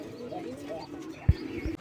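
Pigeons coo softly in a pigeon farm loft, low throaty calls close by under a person's talking, with a couple of brief knocks near the end.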